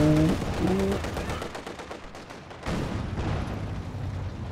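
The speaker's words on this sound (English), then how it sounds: "T-70 takes a shot" T-70 tank firing in Company of Heroes 2, a battle scene where rapid bursts of gunfire rattle on for a few seconds and a heavier blast cuts in partway, over dense rumbling battle noise.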